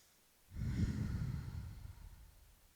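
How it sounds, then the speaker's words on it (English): A single slow breath during a gentle yoga flow, a deep airy inhale-exhale that swells in after half a second and gradually fades, close and soft with no talking. "Breathe in and breathe out."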